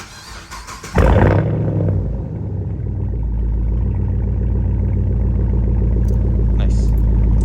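A Chevrolet Camaro SS, fifth generation, fires up from a semi-cold start with a sharp loud burst, then settles into a steady deep rumbling idle close by, with no speech over it.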